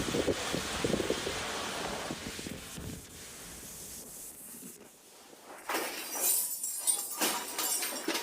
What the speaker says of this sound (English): He didn't know the storm was strong until his window glass shattered.